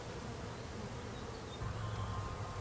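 Honeybees buzzing densely at a beehive entrance, a continuous close hum of many wings swelling slightly louder toward the end, with no voices.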